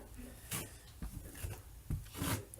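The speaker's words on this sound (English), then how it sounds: "What I'm doing right now is just filling these holes." Filler being worked into holes in a wall with a scraping, rubbing tool, heard as a few soft close rasping strokes spaced through the moment.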